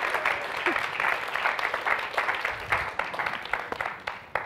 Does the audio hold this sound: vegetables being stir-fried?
no